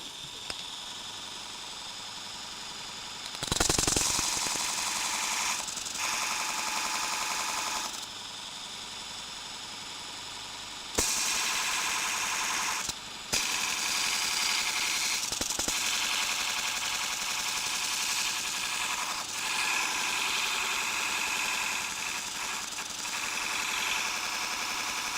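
A ProEdge sharpener mounted on a lathe cart runs with a loud, steady grinding whine that fluctuates as a blade is worked against it. The sound is close, briefly cut by a few short gaps and surges, with no talk.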